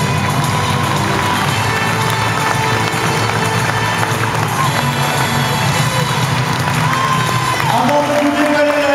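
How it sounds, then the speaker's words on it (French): Loud crowd noise fills an arena at the end of a women's basketball game between France and Canada, with continuous cheering, applause and shouting, while music and an announcer's voice carry over the din. "Applaudissements au Canada, mesdames, messieurs."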